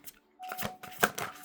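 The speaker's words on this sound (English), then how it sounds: "See, they're so new, they don't even want to shuffle properly." A brand-new deck of oracle cards is shuffled by hand in a few quick, soft riffling bursts, close and quiet, with stiff flicks and pauses between attempts.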